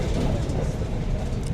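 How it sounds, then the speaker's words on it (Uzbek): Steady low rumble inside a moving passenger train travelling to Samarkand, with continuous rolling noise and faint clatter throughout, no talking. "Biz hozir poyezdda mana"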